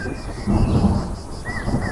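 A rumble of thunder rolls continuously under a steady wash of rain-like noise, fairly loud and close, swelling midway, with no voices, in a cartoon scene where heavy rain is about to start.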